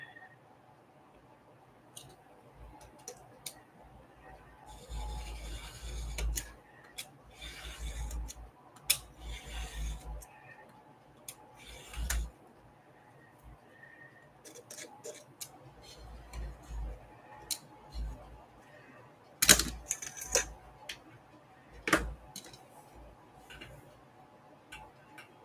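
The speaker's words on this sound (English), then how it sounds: "I have to trim before I round corners today because I got creep" Paper being trimmed for a mini lapbook before corner rounding, with a run of crisp snips and short cutting strokes in irregular bursts, close by against a quiet room.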